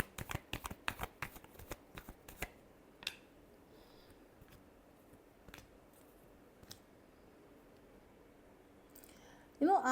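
Tarot cards being shuffled in a quick burst of crisp riffling clicks for a couple of seconds, followed by near silence with a few isolated taps.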